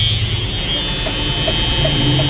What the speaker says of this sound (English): all the low-speed shaft monitors start beeping at you.